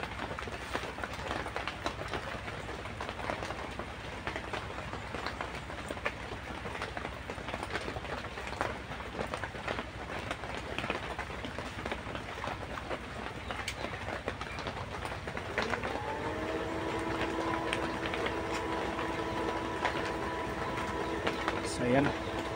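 Two blowers, one small and one large, run at a tunnel, making a steady roaring rush of air that grows louder and picks up a rising whine near the end, with a voice at times.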